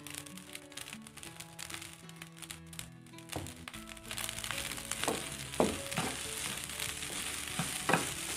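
Blue Band margarine sizzles in a pan of fried rice with orange leaf, starting as a quiet hiss and building to a steady, close crackle with stirring scrapes toward the end.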